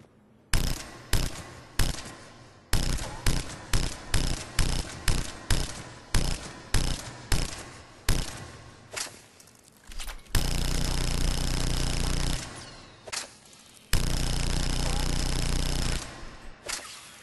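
Hurricane submachine gun in Mass Effect 3 fired from the hip at mid to long range: a string of sharp, evenly spaced bursts, then two long sustained full-auto streams, loud and close with no talking.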